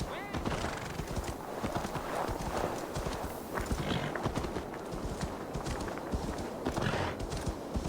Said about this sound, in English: I want to get my mount and my horse